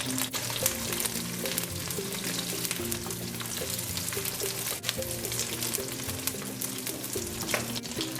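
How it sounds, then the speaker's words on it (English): Black shrimps frying in hot oil for a pumpkin curry, a steady crackling sizzle with spatula stirring throughout, close and moderately loud, with no talking. "My oil is hot. I'm going to add the black shrimps."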